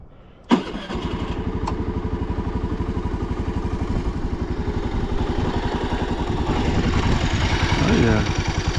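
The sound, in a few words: Honda Navi engine idling after Temu intake mod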